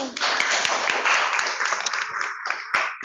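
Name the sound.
classroom applause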